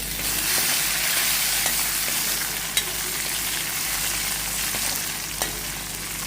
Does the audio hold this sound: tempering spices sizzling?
yes